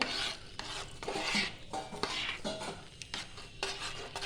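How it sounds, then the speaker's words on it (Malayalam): A spoon scrapes and stirs rava payasam with sago in a pot, giving irregular rasping strokes and light metallic scuffs in uneven bursts, close and fairly loud, with no one speaking. "ഇതൊന്ന് ഇളക്കി യോജിപ്പിക്കാം"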